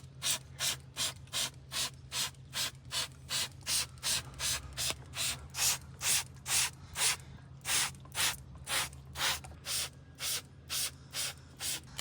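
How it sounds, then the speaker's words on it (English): Spray can applying LanoGuard wax-oil rust protection under a car, a long series of short regular hissing bursts, fairly close, with a low steady hum beneath and no voices. "I'm going to spray it all now with this product, LanoGuard, which is supposedly like a wax oil"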